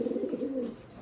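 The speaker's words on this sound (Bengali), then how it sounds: "খুব সুন্দর একটা পিজন" A Malwai pigeon gives one short, soft coo at close range, a brief warbling call that fades out within a second.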